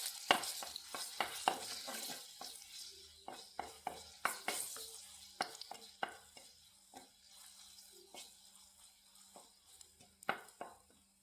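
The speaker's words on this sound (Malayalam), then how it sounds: "ഇനി നമുക്ക് പുളി ഇട്ട് കൊടുക്കാം അതും ഒന്ന് വറുത്ത് കോരാം" Tamarind fries in a pan with quiet, steady oil sizzle, broken by repeated sharp scraping clicks of a spatula stirring and lifting the pieces, no speech.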